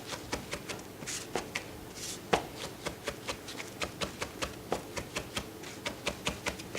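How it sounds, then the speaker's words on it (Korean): A knife finely minces meat on a cutting board for a garnish, producing a quick, steady series of light close taps with a few heavier chops mixed in. "이렇게 곱게 다질수록 더 얌전하고 고급스러운 고명이 돼요."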